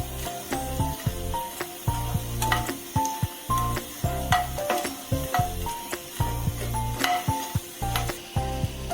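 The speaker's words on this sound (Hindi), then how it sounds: "इस तरह से चलाते हुए हम इसे फ्राई करेंगे और फ्लेम को हमने मीडियम रखा है।" Mini gulab jamun frying in oil over a medium flame while being stirred, a steady close sizzle broken by regular scraping and clinking of the spoon against the pan.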